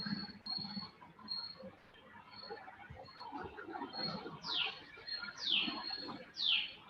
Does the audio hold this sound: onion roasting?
no